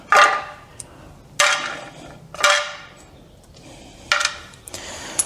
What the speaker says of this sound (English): oh, I've dropped all my washers and stuff.